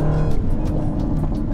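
A supercharged 5-litre V8 in a 2015 Jaguar F-Type R roars loudly and continuously close by, a dense, rich engine note with slight surges as it revs.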